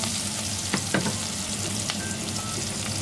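Garlic and other aromatics sautéing in a pan for chicken adobo, a steady, loud sizzle and crackle filling the whole stretch, with a few faint scrapes of stirring and no talking.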